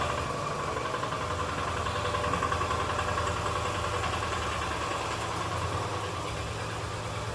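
A petrol engine on a farm sprayer runs steadily, with a constant mechanical drone and rattle throughout and no talking.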